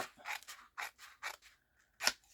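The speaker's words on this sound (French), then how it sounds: "je vais venir découper la carte" Scissors snip through square card stock for handmade year-end greeting cards: a quick run of six crisp, close cuts, a short pause, then one sharper, louder snip.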